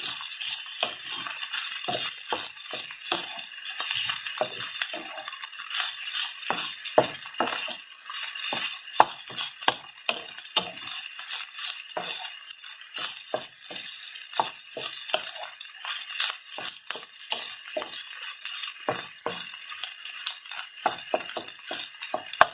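Metal spatula or spoon clinking and scraping repeatedly against a pan while fried rice is tossed with a little soy sauce, a steady run of close, bright taps and scrapes with no talking.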